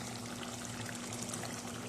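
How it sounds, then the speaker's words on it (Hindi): Fenugreek, garam masala and yogurt go into a chicken karahi with a soft pouring, trickling sound, faint and brief against a low steady background hum. "अब हम इसमें डालेंगे मेथी और गरम मसाला और बाकी का दही।"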